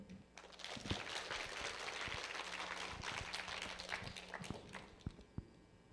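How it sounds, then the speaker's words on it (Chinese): Audience applause at the close of a science lecture in a hall, a broad steady wash of clapping over several seconds with a few sharper individual claps near the end. "我们谢谢李教授精彩的演讲，我们再给他一个掌声好吗？"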